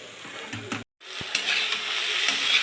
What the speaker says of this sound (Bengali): আর একটু ভেজে নেব, আর অল্প একটু ভেজে নেব।